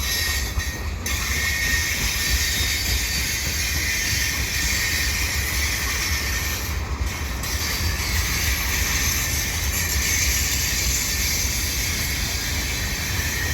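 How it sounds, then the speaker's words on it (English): A CN mixed freight train pulled by four engines rolls slowly eastbound past Ville St. Pierre, its wagons producing a steady, loud rumble with faint wheel squeal throughout. "This train is headed eastbound"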